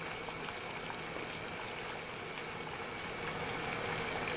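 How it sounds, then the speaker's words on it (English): Water at a rapid rolling boil with big bubbles, a continuous close hiss and bubbling rumble that holds steady and swells slightly toward the end. "We can now say the water is boiling at 100 degrees centigrade."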